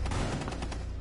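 Video game gunfire, a rapid burst of several close, loud shots fired in quick succession over about a second, with no talking.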